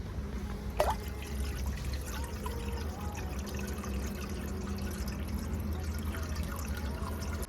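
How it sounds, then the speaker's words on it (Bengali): Water poured into a pot while chicken with green peas steams, a steady low trickle and splash running through the whole stretch, with a brief sharper clink near the start. "একটু জল দেবো।"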